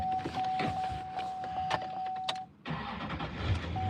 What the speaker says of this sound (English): I'm gonna start my truck up